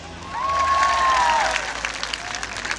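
A crowd applauds a football player at a street celebration in Yangon for Myanmar's U-20 team after it qualified for the World Cup. The steady clapping swells and then tapers, and a whistle tone rises over it.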